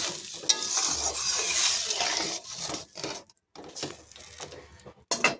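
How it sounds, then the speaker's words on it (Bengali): Prawns being stirred in a pan just after water is added for a prawn and green banana curry, giving a steady close sizzle and frying hiss with scraping stirs, a brief pause, then more stirring and no voices. "জলটা দিয়ে আবার একটু নেড়ে চেড়ে নেব।"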